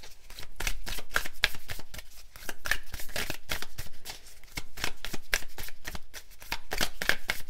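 Thick oracle cards shuffled in steady repeated bursts of riffling and flicking, close and fairly loud, with brief pauses between handfuls and no talking.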